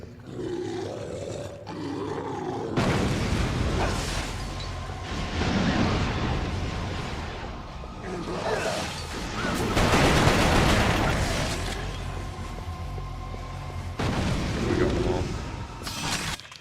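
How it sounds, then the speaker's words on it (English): Grenade explosions in the video game Resistance: Fall of Man: loud, continuous, overlapping booms and roaring blasts that swell and ebb, with gunfire-like crackle, for the whole stretch. "This time I'm going to spam some grenades here."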